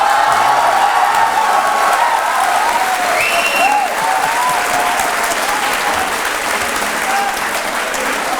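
Sustained applause from a studio audience at a televised talk-show courtroom taping, dense and steady throughout with faint voices mixed into the clapping.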